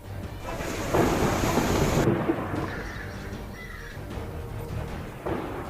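Heavy rain hisses steadily while thunder rumbles loudly and close, the strongest roll early on, and a crow caws intermittently over the storm.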